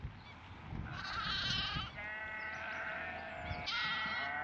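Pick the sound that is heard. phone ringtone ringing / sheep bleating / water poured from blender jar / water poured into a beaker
sheep bleating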